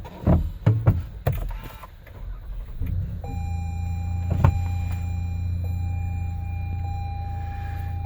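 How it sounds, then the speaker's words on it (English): A steady electric motor whine from the rear power windows of a 2017 Toyota Sienna XLE AWD venting open sets in partway through and runs on. It sits over a low cabin hum, after a few earlier clicks and thumps, with no talking. "The rear windows vent open electronically."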